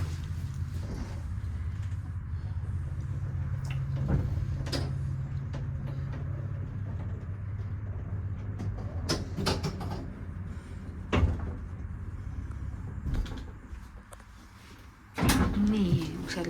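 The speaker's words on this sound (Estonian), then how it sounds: "Siuke põnev lift, mille uksed lähevad ise kinni." Automatic elevator doors slide shut and the lift carries on toward the fifth floor inside a building, with a steady low motor hum and scattered clicks and thumps. A louder clunk near the end may be the car stopping.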